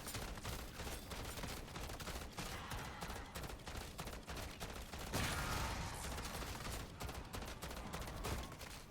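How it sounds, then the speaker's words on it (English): Rapid gunfire fills a fight against zombies in the video game MW3 Zombies, a dense stream of continuous bursts that sounds distant and muffled, with no voices. "Just keep shooting the bounty."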